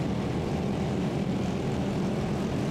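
Racing karts at Clay Pigeon Raceway in a round of the 2024 FP4K series build up their engine revs on the grid before the start, a loud continuous engine roar with no voices.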